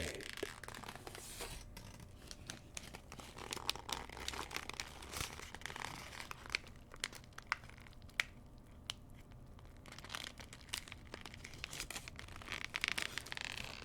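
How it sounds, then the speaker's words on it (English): Paper being folded and crinkled in a quiet ASMR setting, giving soft, irregular crackles and rustles with occasional sharper snaps, close and gentle, with no talking. "when the paper didn't want to fold that way quite yet."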